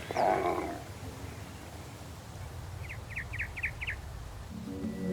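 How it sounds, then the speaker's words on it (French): Faint birdsong on a windy savanna, a brief run of about five quick chirps at a distance over a low rumbling wind bed, with a deeper animal-like call near the start. "Le chant lointain des oiseaux poursuit son rythme quotidien."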